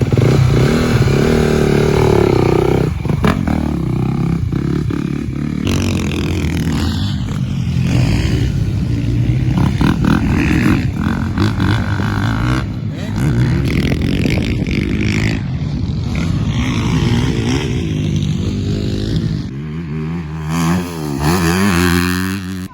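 A motorcycle at a Latvian championship race round is ridden hard, its engine revving loudly and continuously with rising and falling pitch through gear changes, accompanied by clattering and wind roar close to the rider.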